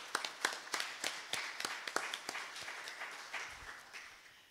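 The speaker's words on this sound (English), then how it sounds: "Let's give all of them a big round of applause." Faint applause from a Sunday service congregation in a church sanctuary, scattered distant claps spread across a few seconds with soft background murmur.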